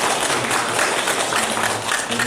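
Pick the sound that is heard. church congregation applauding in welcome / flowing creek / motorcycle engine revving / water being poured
church congregation applauding in welcome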